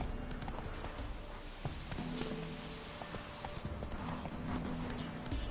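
Horse galloping in The Witcher 3 video game: rapid, steady clip-clop hoofbeats at close range throughout, with faint game ambience and a brief whinny-like sound underneath.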